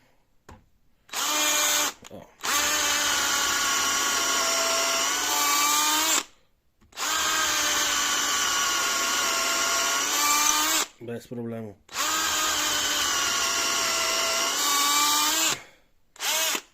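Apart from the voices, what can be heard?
cordless drill drilling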